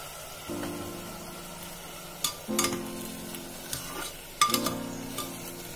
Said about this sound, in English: Now I'm adding 200 grams of frozen peas.